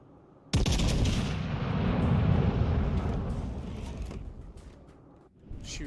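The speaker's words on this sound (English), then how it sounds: "Shooting HE out of a Russian battleship." Heavy naval gunfire from a Russian battleship in World of Warships Legends firing high-explosive shells: a sudden loud blast at the start rolls into a long, rumbling boom that lasts several seconds and fades away.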